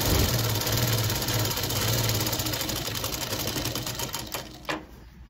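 A sewing machine stitches cloth at speed, a loud continuous mechanical rattle and hum close by that slows and stops near the end.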